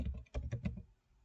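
A few quick keystrokes tap on a computer keyboard, close and fairly quiet, as a short burst of about four clicks that trails into silence.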